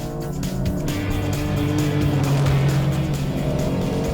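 An Audi RS5, a BMW M4 Competition and a Mercedes-AMG C63S launch together in a drag race, engines roaring loud and close in a continuous surging blast with a rising engine note.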